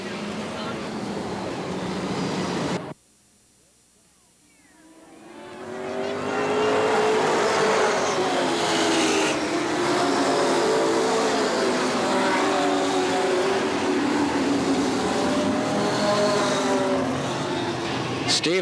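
Race cars roar around the oval at Eugene Speedway in 1990, a loud sustained engine drone with passing cars, broken by a brief near-silent drop before the racket swells back in; an announcer's voice runs over it.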